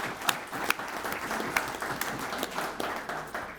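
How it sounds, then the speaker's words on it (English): Scattered audience applause at a community legislative Q&A session, a modest room of people clapping steadily with a few sharper individual claps standing out, moderately distant and not very loud. "I think we should clap."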